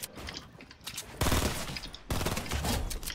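Burst-fire SMG shots ring out in a shooter video game, rapid clustered bursts that swell loudly twice with quieter crackling between, close and dense with no speech.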